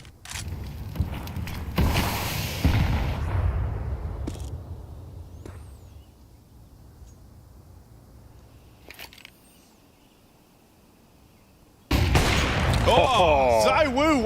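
Desert Eagle and AK-47 gunfire in a Counter-Strike 2 esports match: dense, loud bursts of shots at the start fade into quieter game noise, then a sharp, loud volley of fire returns near the end.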